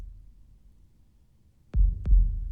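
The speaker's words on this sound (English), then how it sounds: "So it's a heartbeat" A heartbeat sound layered into an orchestral bass drum comes as two deep, thudding low booms in quick succession after near silence, heavy and close with a slight rough edge.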